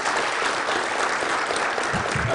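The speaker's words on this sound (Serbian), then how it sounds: "A round of applause for all participants" A crowd gives a round of applause for all the participants at a 15-year anniversary event, with dense, steady clapping that holds throughout.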